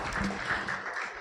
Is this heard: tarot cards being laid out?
no